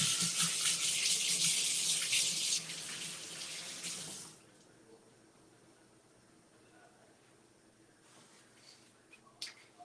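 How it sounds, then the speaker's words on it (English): A tap runs into a sink while hands are washed, a steady loud splashing for about four seconds before it cuts off, followed by quiet room sound and a faint click. "Let me wash my hands."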